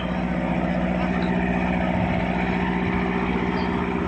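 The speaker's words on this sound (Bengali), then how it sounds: "এই স্পিড বোটটা প্রায় যাত্রী নিয়ে নিয়েছে, এখন চলে যাবে তাদের গন্তব্যে।" A passenger speedboat on the Buriganga river in Dhaka drones with a steady engine hum, heard as a continuous mid-distance rumble with no clear change in pitch.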